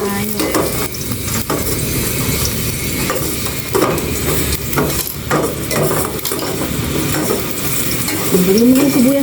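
Onion and tomato sauté in a hot pan, a constant loud sizzle broken by repeated scraping stirs of a utensil against the pan, with no talking.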